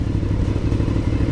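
Aprilia Shiver 900 naked sport motorcycle engine running steadily at close range, a continuous loud low rumble with slight clatter throughout.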